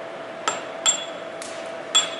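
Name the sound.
chisel chipping at rock on a robot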